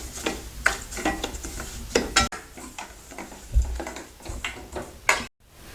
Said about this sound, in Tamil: இதே நெய்ல நம்ம ரவை வறுத்துக்கலாம். மிதமான தீச்சூடு வச்சு நல்லா வறுத்து எடுத்துடலாம்.